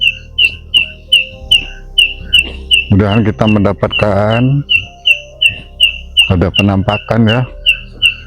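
Repeated high, regular chirps ring out in a cemetery at Makam Cigunung, joined by insect-like trills in the background, while someone speaks over the sound in the middle.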